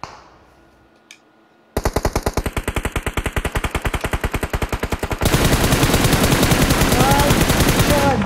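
Sustained video game gunfire from a battle royale match: a fast, loud, evenly spaced burst of automatic shots runs for several seconds, then gives way to a denser, continuous roar of firing right up close.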